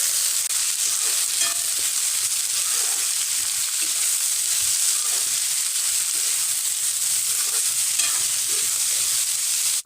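Onion, green chilli and bitter gourd stir-fried in a little oil, a continuous close sizzle with repeated scraping stirs throughout, no talking.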